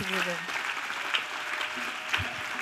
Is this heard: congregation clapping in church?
yes